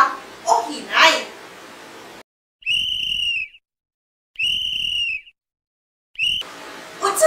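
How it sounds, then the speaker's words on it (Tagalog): A whistle is blown twice in a classroom-style game about loud and soft sounds, each a sustained shrill tone lasting about a second, with a voice speaking before and after. "Pito! Kusog ba kini o hinay?"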